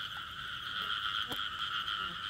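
A chorus of female frogs croaks steadily at night during a frog hunt, dense calls layered together at close to moderate range, with a brief sharp knock partway through and no voices.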